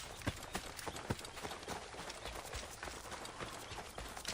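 Horse hooves clip-clopping over ground at a steady running rhythm, faint and mid-distance, with ambient game noise around them in Assassin's Creed Origins.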